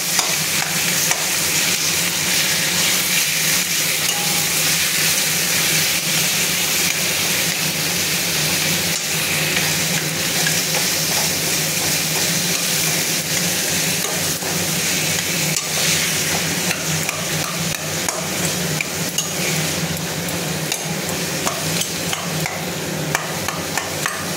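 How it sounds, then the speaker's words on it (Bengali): Food is mashed with a ladle in a hot kadai, a continuous close sizzle with repeated scraping and stirring strokes, steady and fairly loud without talk. "হাতা দিয়ে ম্যাশ করে দিলাম"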